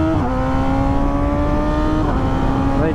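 Car engine revving hard with quick-shifter upshifts, a loud continuous rising drone interrupted by two abrupt pitch drops as gears change, close and without talk.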